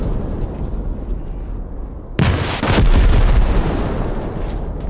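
A tank fires in the Arma Reforger battlefield game: a sudden heavy boom roughly midway through, followed by rolling low rumble that stays loud over steady background battle ambience.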